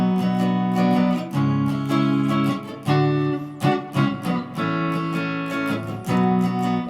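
Several rounds of the rhythm part of a riff on guitar, with clear repeating chord changes and short muted strums, played alone and fairly loud.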